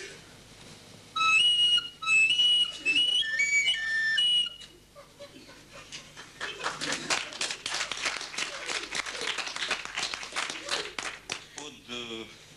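A voice imitates a trumpet fanfare with loud, bright, stepped whistled tones for about three seconds, followed by busy, applause-like noise and a short rising whistle at the end.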